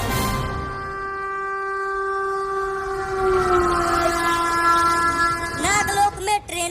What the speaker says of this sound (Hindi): ट्रेन अपनी ही तरफ आ रही है